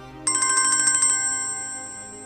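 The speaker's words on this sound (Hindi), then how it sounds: "किसका फोन आ रहा है?" A phone ringtone sounds close by in a home: a rapid run of bright, repeated electronic tones for about a second, then one held note that slowly fades. No one speaks.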